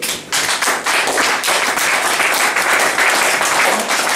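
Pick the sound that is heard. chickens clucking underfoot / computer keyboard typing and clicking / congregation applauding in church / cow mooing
congregation applauding in church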